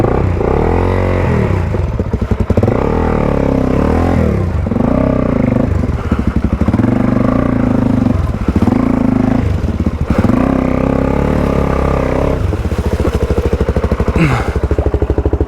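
A motorcycle engine runs loudly and continuously nearby while out adventure riding in the Blue Mountains near Sydney, its revs rising and falling repeatedly beneath clattering.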